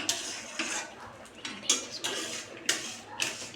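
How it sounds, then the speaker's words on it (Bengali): A spoon scrapes and clinks against a pan while shahi paneer gravy is stirred, in a series of short, close metallic strokes at an uneven rhythm, with no talking. "বাকি এটাকে একটু নাড়িয়ে নেবো সুন্দর করে।"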